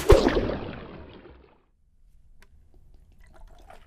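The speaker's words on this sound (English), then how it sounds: "I hear it glugging out" Liquid glugging out of an opened valve during a drinking contest: a short splashy gush at the start that fades over about a second and a half, then near silence with faint low rumble.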